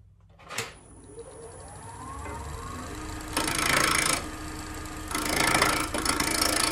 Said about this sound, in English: So now I'm going to use a spindle gouge to make those V-cuts.